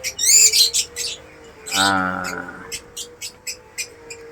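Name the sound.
birds chirping in a mini aviary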